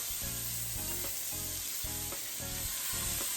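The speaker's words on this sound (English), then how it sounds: "season our scallops, okay? And we're just browning." Scallops seasoned with Himalayan salt brown in a hot pan, a steady close sizzle running throughout, with rhythmic lower bursts that could be utensil movement or spattering beneath the frying.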